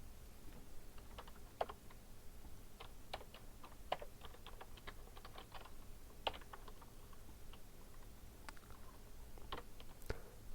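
Quiet, irregular key clicks from a computer keyboard while network interface settings are configured, with scattered keystrokes and a few sharper taps over a faint background hum, no talking.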